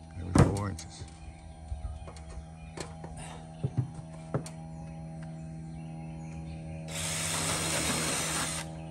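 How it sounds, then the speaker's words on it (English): A power drill bores through a metal gutter on a mobile home, a brief whir early on followed by scattered knocks and clatter, then a steadier grinding burst near the end. "Pre-drilling, because you're going through metal, obviously"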